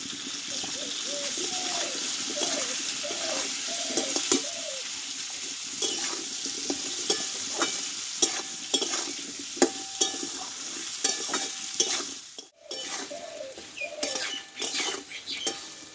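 Raw mango pieces salted and stirred in hot oil for a pickle, with a continuous sizzle and repeated spatula scrapes and clinks against the pan, close, plus a brief pause near the end.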